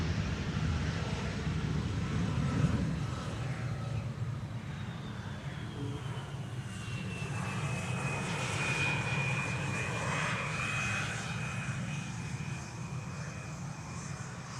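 A Lufthansa CRJ regional jet arriving from Munich on the Polderbaan runway at Schiphol, a steady engine roar with a rising then levelling whine as it passes, moderately distant and heard alone.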